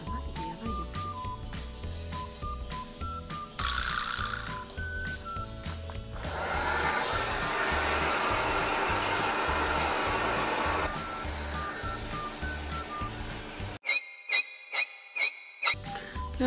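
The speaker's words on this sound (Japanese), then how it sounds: "これしてる間に髪を乾かしちゃおう。" A hair dryer blows on hair in an evening home routine, a steady rushing whoosh lasting several seconds, mixed in with upbeat background music and electronic beeps.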